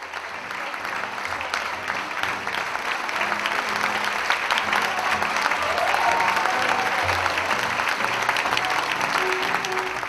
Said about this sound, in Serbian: Ovoliko aplauza, ovoliko zadovoljstva publike